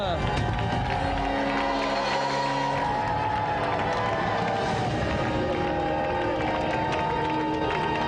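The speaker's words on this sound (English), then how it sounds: "round of applause" A studio crowd on the 1994 TV show GamesMaster cheers and claps steadily, with whoops rising over music playing loudly underneath throughout.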